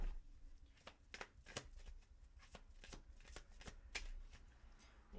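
A deck of Spirit of the Animal oracle cards is shuffled by hand, giving a steady run of crisp riffling slaps and flicks at close range, with no voices over it.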